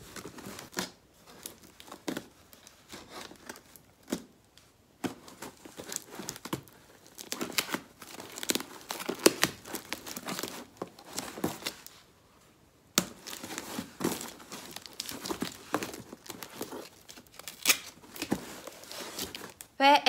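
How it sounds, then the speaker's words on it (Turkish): A Watsons surprise box is opened by hand, with continuous crinkling and tearing of paper and plastic packaging, close and fairly quiet, with irregular rustles and crackles and a brief sharper rip partway through. "Ve şimdi bu kutuyu birlikte açacağız."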